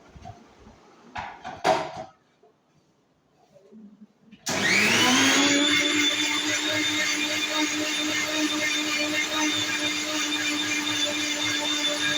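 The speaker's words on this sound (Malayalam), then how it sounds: "പിന്നെ നമുക്ക് മിക്സി ഇടാം" A kitchen mixer grinder (mixie) switches on after a few quiet seconds of light clatter and then runs loud and steady with a constant motor whine to the end.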